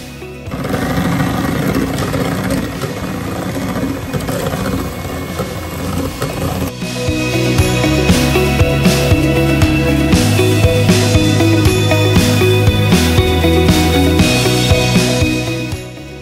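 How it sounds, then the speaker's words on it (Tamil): An electric beater whips one cup of thick fresh cream for custard apple ice cream, a loud, close mechanical whirr that runs without a break, roughening and growing steadier about halfway through. "1 கப் திக் ஃப்ரெஷ் க்ரீம் எடுத்திருக்கேன். இதை நல்லா பேஸ்ட் ஆகிற வரைக்கும் பீட் பண்ணிக்கலாம்."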